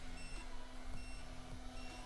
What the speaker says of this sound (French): T'as le buzzer.